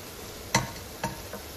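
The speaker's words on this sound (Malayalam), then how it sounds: "ഇനി ഇതിലോട്ട് നമ്മൾ കുതിർത്ത് ക്ലീൻ ചെയ്ത് വെച്ച കടല ചേർത്ത് കൊടുക്കാം." Soaked, cleaned chickpeas are dropped into a pan of cooked-down tomatoes, giving two soft clattering splats about half a second apart and a fainter third, with quiet room noise between.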